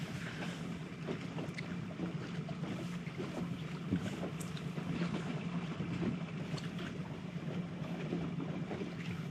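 A fishing boat idling up through standing timber on a windy winter lake, giving a low, steady, quiet motor hum under constant wind noise with no talk.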